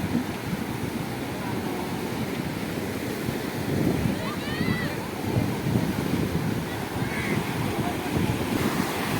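Sea surf breaking close by on a sunny beach, a broad continuous wash of waves with wind buffeting the microphone and a few voices in the background.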